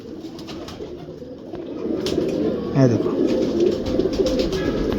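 A Ferozpuri pigeon held up close coos in a low, throaty warble under ongoing talk, against the busy background noise of a breeder's loft.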